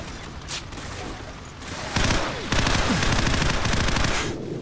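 Automatic gunfire in Call of Duty 4: Modern Warfare, an MP5 in multiplayer, starts with scattered shots and swells into dense, sustained bursts for the last few seconds, loud and close.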